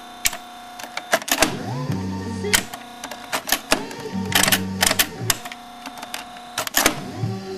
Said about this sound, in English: If you listen to how it does it, it makes a weird motor sound.